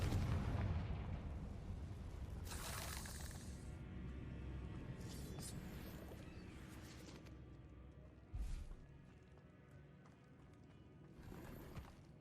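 A Confringo fire-blast spell from Hogwarts Legacy lands as a quiet burst, followed by crackling impacts and a later sharp thump, with scattered clattering effects fading in and out at low level.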